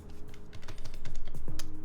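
Close, rapid keystrokes come from a mechanical keyboard with 45 gram switches lubed with Krytox 105 and dyed OEM blank keycaps, clacking in a quick, uneven patter.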